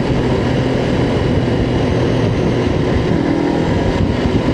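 A Honda NX500 motorcycle rides through the Tweed Valley in New South Wales, its engine and exhaust droning steadily and close, mixed with heavy wind rush and no speech.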